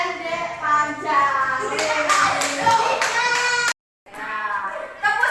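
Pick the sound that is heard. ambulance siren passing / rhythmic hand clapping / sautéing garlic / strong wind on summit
rhythmic hand clapping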